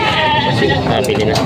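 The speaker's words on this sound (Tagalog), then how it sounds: "May mga kambing dito mga binibenta." Goats for sale at a busy livestock market in Padre Garcia, Batangas, bleat loudly and close by. Someone speaks briefly over the animals.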